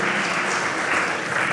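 Brief burst of vigorous audience clapping at the BMA Visionary Awards 2022 ceremony, dense and even throughout without a pause, fairly loud and close.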